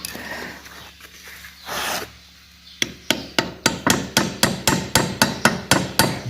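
Light hammer taps on a seized ABS sensor, struck from its hub carrier with a fitted drift, about fourteen sharp, evenly spaced metallic knocks at a steady pace, close and clear after a few seconds of low rustling.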